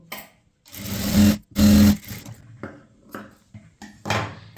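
A sewing machine stitches a blouse lining in two short, loud bursts, each under a second, with quieter handling sounds and a faint later burst between pauses.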